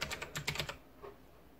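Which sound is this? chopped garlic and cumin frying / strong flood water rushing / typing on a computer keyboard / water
typing on a computer keyboard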